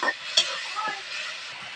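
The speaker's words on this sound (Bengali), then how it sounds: "একটু মশলার জল দিয়ে দেবো একটু নাড়াচাড়া দিয়ে নেবো মশলাকে একটু কষিয়ে নেবো" Spice paste with a little water is stirred and fried in a pan for a Bengali rohu fish and chana dal dish, giving a steady close sizzle with a few scraping stir strokes.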